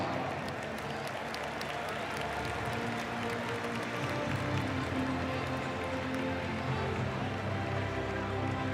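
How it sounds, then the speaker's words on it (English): Big crowd applause and cheering fills a college football stadium during Wisconsin at Illinois, a steady dense roar of clapping sustained throughout with no pause. "Let's get one more round of applause for this year's distinguished alumni."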